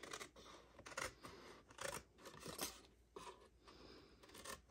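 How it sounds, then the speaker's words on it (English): Scissors snip through card along a score line while making a Lindt chick treat box, a series of close, quiet, crisp cuts in an irregular rhythm, with no talking. "now cut this score line right here and right here"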